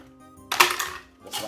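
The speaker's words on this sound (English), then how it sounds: "A few pieces of ice is inside of my smoothie blender" Ice cubes dropped into a smoothie blender jar, a short clattering burst of hard pieces hitting and tumbling, followed by a second smaller clatter; close and fairly quiet.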